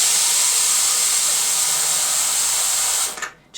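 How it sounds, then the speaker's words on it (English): Steam hisses steadily from a steamer aimed at an old animal-glue joint in wood to soften it, a loud continuous jet that cuts out abruptly near the end. "I'm going to use steam to soften the animal glue, because this has been glued with animal glue."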